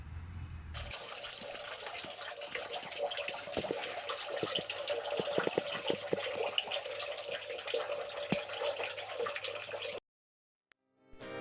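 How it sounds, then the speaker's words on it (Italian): Natural drinking-water spring gushing in the woods near a village, a steady loud rush of running water with no talk, cutting off abruptly near the end. "una sorgente di acqua naturale potabile che sgorga nel bosco."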